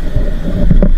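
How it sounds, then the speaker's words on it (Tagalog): Strong wind and rough waves at sea buffet the microphone aboard a fishing boat, a loud, close rumble with surging low thumps. "Lumakas na naman yung alon. Yung hangin."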